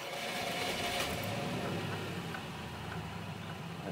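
Under 14CUX engine management, an engine ticks over at a fast idle of about 1500 RPM, giving a steady, even hum with a fine mechanical chatter.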